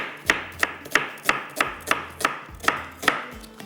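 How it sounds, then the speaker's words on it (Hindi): Knife chopping tomatoes on a cutting board for Lucknowi qeema, about a dozen crisp, evenly spaced thuds in a quick steady rhythm, close and clear with no talk. "टमाटर पिसे हुए लिखे हैं, लेकिन मैं चॉप करके डाल दूँगी"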